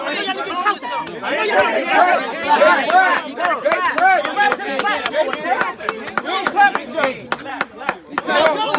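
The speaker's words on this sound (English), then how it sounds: "He is clapping. Yes, he is clapping and his hands are going together." A person claps hands amid a lively bar crowd, with sharp claps scattered through dense, loud chatter and voices talking throughout.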